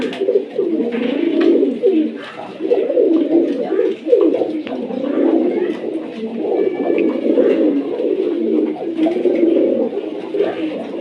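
Kashmiri pigeons in a dark indoor room coo loudly and continuously, several birds overlapping in steady rolling throaty calls close by.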